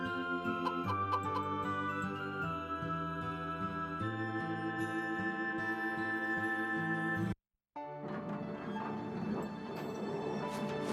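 Chickens in the Harvest Moon: Animal Parade video game cluck over a bright, tinkling game tune that briefly cuts out before resuming.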